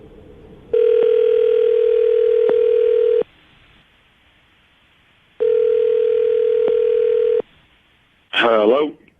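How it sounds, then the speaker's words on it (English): Telephone dial tone on an outgoing call to a radio-show date: two long steady ringback tones separated by silence, loud and alone, followed by a brief voice at the end. "I'm going to call him right now, see if we can get him to answer his phone"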